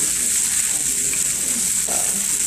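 Chow mein noodles with beef and tofu being stir-fried, giving a steady, fairly loud hiss and crackle of frying that runs unbroken throughout, with faint stirring scrapes now and then.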